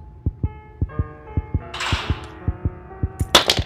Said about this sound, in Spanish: iré a cortar el cable azul del ventilador, para poder obtener la llave de la caja fuerte